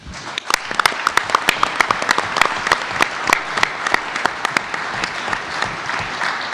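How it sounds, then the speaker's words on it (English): Applause from an audience at a general membership meeting, a dense crowd of clapping with sharp individual claps standing out, steady and fairly loud throughout. "a huge round of applause for what they do"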